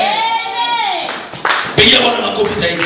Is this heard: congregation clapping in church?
yes